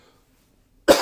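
A single loud, close cough bursts out after a second of near silence and carries on to the end.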